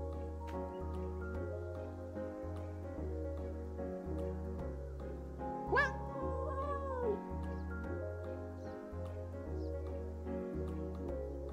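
A single cat meow rises and falls partway through, set against steady game music in the video game Calico, quiet overall.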